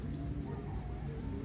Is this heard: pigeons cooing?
yes